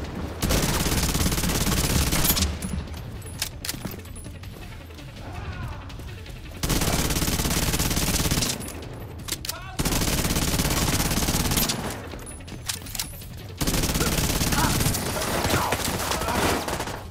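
Sustained bursts of automatic gunfire and heavy volleys in a firefight from The Division 2, loud and close, coming in several long waves separated by brief quieter gaps.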